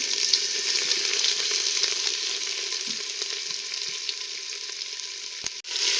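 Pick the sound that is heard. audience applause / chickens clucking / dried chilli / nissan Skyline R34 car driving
dried chilli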